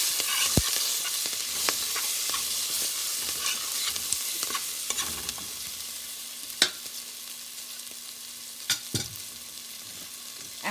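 Ginger, green chili and curry leaves sizzle steadily in a hot pan, a constant soft frying hiss broken by scattered clicks and scrapes of a spoon stirring, fairly quiet and alone.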